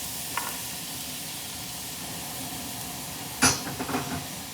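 Onions and carrots go into hot pancetta fat in a pot, giving a steady low sizzle with a sharp clatter of the vegetables dropping in near the end.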